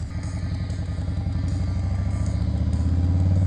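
Motorcycle engine on a road, ridden with the helmet visor open, a loud close throbbing rumble with steady pulsing exhaust beats and wind noise that builds slightly toward the end.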